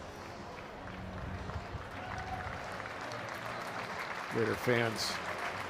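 Baseball crowd at a Texas A&M vs Florida college game applauds both players, a steady broad wash of clapping and cheering under a commentator's voice, swelling briefly near the end.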